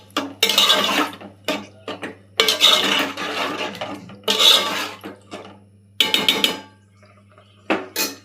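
Tamarind juice being poured into an egg, cauliflower and tomato curry and stirred in a pan, heard as bursts of metal spoon scraping and clinking against the pan, separated by short pauses, close and fairly loud.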